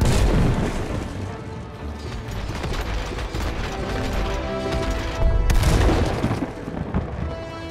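Bomb blasts in the video game It Takes Two: dense, loud booming bursts and rattling impacts pile up continuously, with a fresh heavy volley around the middle and a sustained roar behind them, no talking.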